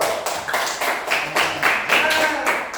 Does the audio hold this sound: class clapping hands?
yes